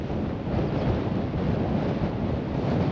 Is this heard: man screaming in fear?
no